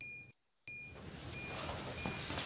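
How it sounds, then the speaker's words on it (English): A foam alarm at a biomanufacturing process station gives repeated high electronic beeps at a steady interval, fairly loud over a continuous hum of equipment noise. "I keep getting a foam alarm"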